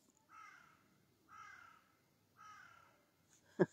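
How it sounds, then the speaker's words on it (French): A crow caws three times at an even pace, harsh and somewhat distant, followed by a brief sharp click at the end. "Le corbeau confirme."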